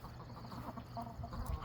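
A small Silkie hen clucks softly at close range in a backyard where ducks and other hens are let out, brief low clucks over faint farmyard noise.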